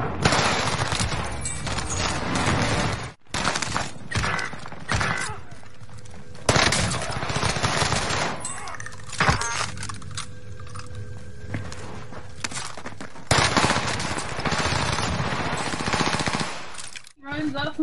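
Sustained automatic gunfire in a shooter video game, long loud bursts of rapid shots separated by brief pauses, with a voice talking at times.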